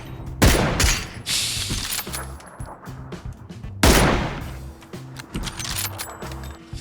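Loud close gunfire in the video game PUBG comes in two sharp bursts of rapid shots, each trailing off into echoing reports and softer in-game noise.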